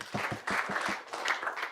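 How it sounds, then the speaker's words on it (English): Audience at a university copyright and authorship workshop clapping, a small group of hands producing quick, distinct claps that blend into brief applause, fairly faint. "Can you clap for yourselves?"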